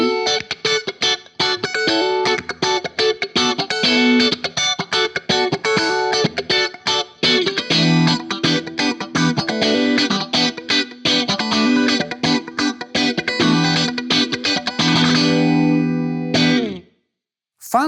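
Electric guitar strummed in quick, percussive funk rhythm with a bright, thin tone and effects from the in-between single-coil pickup position, steady and loud, ending abruptly with a short pause.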